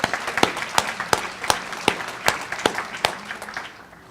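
At a city State of the City address, the audience claps steadily. A few distinct, evenly spaced louder claps stand out over a softer crowd wash that fades toward the end.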